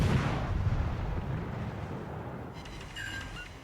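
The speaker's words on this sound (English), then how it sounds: "so we'll fire our guns since we're not spotted" A warship's guns firing in the naval video game World of Warships Legends, a heavy booming salvo at the start that rumbles and fades, followed by faint game sounds.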